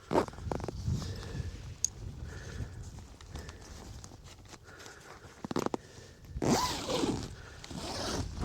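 Zipper of a 30-year-old tent being drawn on a misty mountain, a quick rasping run near the start and a louder, longer zip pull later, close to the microphone amid rustling, with no talk.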